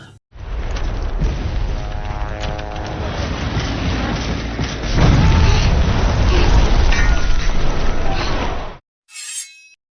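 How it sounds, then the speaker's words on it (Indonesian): A sustained roar of heavy explosions from an air raid bombardment in a war film, crashing debris, loud and continuous, with a deeper blast midway before it cuts off abruptly. "tiba-tiba mereka dibombardir melalui serangan udara oleh musuh"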